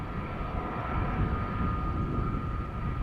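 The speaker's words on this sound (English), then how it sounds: "And the engines of the A330 have become clearly audible" Airbus A330 jet engines departing Amsterdam Schiphol Airport, a steady, loud, close roar with a sustained tonal whine running throughout, no talk.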